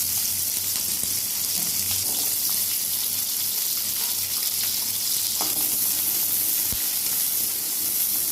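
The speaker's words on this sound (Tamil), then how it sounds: "2 கைப்பிடி அளவு சின்ன வெங்காயம் போட்டு நல்லா எண்ணெயிலே வதக்கிக்கலாம்." Shallots sauté in oil in a pan for a dry fish kulambu, giving a dense, continuous close-up sizzle that stays loud and even throughout with faint stirring underneath.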